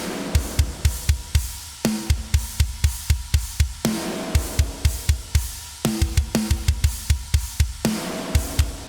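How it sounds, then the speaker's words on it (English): Metalcore breakdown snare bomb sample: heavy, punchy snare and kick hits in a steady driving pattern with a ringing, booming tail, repeating in tight loud bursts across the whole stretch. "So the actual snare bomb would sound like this."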